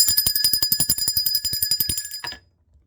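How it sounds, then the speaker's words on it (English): A rapid, continuous metallic bell ringing with fast repeated strikes for a couple of seconds, then stopping abruptly into silence. "Let's ring the bell for that."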